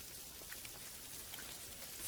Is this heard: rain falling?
yes